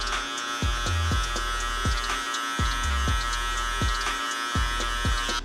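Electric hair clippers fitted with a number 2 guard, lever fully open, cut a mid fade, giving a steady close buzz broken by repeated short, rhythmic flicks as they lift away from the hair.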